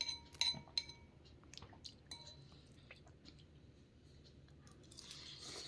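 Soft, close mouth sounds of someone chewing a bowl of spicy ramen, with a few sharp clinks of glass or utensils near the start and faint liquid drips, quiet throughout.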